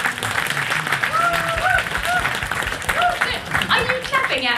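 Audience clapping at a live comedy podcast show, steady applause from a crowd mixed with cheers and whoops, with voices calling out over the clapping.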